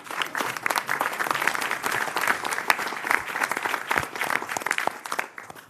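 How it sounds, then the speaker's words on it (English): A crowd applauding steadily at an organizational meeting, dense clapping sustained throughout at fairly close range, tapering slightly at the end. "let's give ourselves a round of applause for making it this far"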